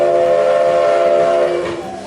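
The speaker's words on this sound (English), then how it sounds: "the departing train full of eager visitors blows its whistle" A loud, steady train whistle blares close by at a market in Durango, Colorado, for about a second and a half, then drops in pitch and fades away as the train departs.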